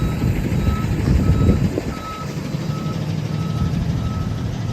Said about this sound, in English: No, there's a moving truck.